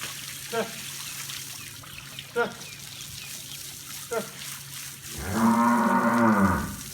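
A cow gives a long, deep moo near the end, loud and close, after several short clicking calls from a person, with running water splashing in the background.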